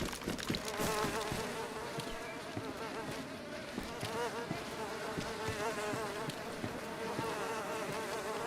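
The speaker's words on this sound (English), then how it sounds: "I heard another fly. I heard buzzing." Flies buzz in the survival video game DayZ, a close, wavering drone with warbling pitch that rises and dips, with a faint voice underneath.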